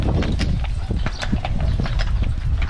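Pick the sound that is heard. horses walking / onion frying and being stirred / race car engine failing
horses walking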